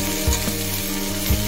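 Shallow-fried vegetables tumble into fried masala in a pot, giving a steady close sizzle with a couple of soft thuds and stirring scrapes, no voices.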